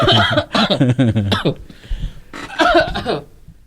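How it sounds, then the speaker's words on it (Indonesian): A person coughs in a few harsh bursts, then pauses and coughs again, close to the microphone. "Batuk."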